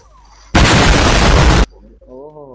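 A grenade bursts in the battle royale game Free Fire: one loud, roaring explosion that lasts about a second, followed by a quieter stretch and a brief voice.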